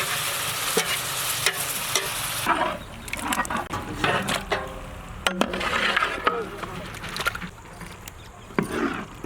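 Masala-marinated chicken added to onions browning in ghee, Chettinad-style ghee roast, with a steady sizzle and intermittent stirring and scraping in the pan, recorded close.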